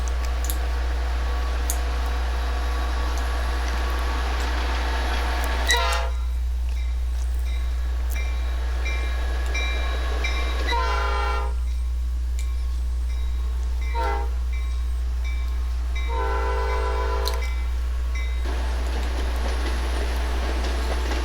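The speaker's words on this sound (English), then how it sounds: "an Amtrak coming off of the Chicago line now" An Amtrak passenger train rolls through a railway junction with a steady heavy rumble and low hum, while several horn blasts sound across the passage, loud and sustained throughout.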